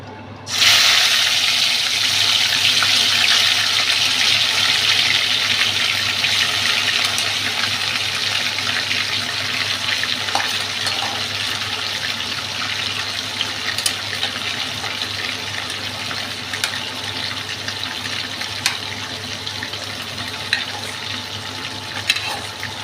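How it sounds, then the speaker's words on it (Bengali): Prawns dropped into hot oil for a watermelon prawn curry: a sudden loud burst of frying hiss that settles into a steady, dense sizzle with scattered pops and crackles. "তেল ভালো গরম হয়ে গেছে, এখন আমি ওই চিংড়ি মাছগুলো দিয়ে দিচ্ছি"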